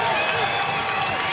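A crowd at a college wrestling dual meet between Oklahoma State and Oregon State roars steadily through the whole moment, with a commentator talking over the noise.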